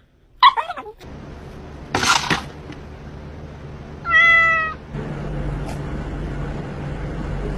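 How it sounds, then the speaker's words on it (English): A cat meows in a short, clear call that rises and falls with distinct harmonics, heard close and alone against a low background rumble, with a couple of brief noises before it. "What a funny cat."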